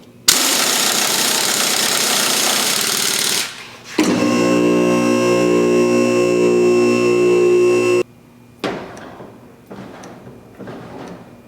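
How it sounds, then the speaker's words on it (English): A Harbor Freight impact wrench tightens coilover bolts on a 1950 Chevy four-link setup, with a long loud burst of hammering, a short pause, a second sustained whirring run, then a few shorter bursts. "You're supposed to torque the big stuff to 120 foot-pounds, which in the case of this Harbor Freight Impact is all of the Ugga-Duggas"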